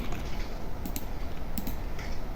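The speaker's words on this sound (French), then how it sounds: "comme vous pouvez l'entendre, je joue clavier et souris" Soft, quick keyboard taps clatter faintly over a steady background hiss, a few scattered keystrokes close by, from keyboard-and-mouse play of Lego Fortnite.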